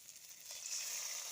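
Spices and tomato frying in a pan for a small-fish curry, a soft, steady sizzle with faint crackle, quiet and without talk.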